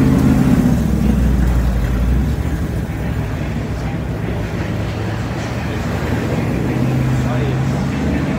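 A 2024 Ford Mustang's engine rumbles and revs up close, a deep loud drone that holds throughout, with people's voices heard over it.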